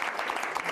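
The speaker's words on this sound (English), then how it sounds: "Let's give her a round of applause for having us." Brief, fairly faint burst of crowd applause at a New Hampshire primary campaign event, a short dense patter of clapping.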